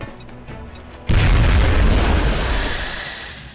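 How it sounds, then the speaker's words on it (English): A grenade detonates in the turn-based strategy game XCOM: Enemy Within, a sudden loud, deep boom about a second in, after which a heavy rumbling roar sustains and slowly fades. "Throwing grenade."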